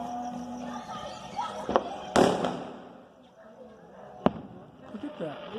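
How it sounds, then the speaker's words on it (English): Fireworks set off by kids across the street crack out in a few sharp, separate bangs amid a murmur of voices. "That's the kids across the street setting off fireworks"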